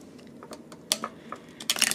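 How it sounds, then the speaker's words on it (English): A presser foot is swapped on a sewing machine during zipper work on a jacket, giving a few small, sharp metallic clicks and snaps close by over a quiet hum, with the last clicks loudest. "I'm going to go ahead and change my foot"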